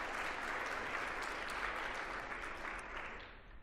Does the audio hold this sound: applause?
yes